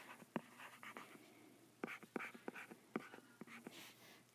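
Chalk or marker writing on a board in a chemistry lesson, a series of short, sharp scratching strokes in irregular bursts, quiet and close, with no talk.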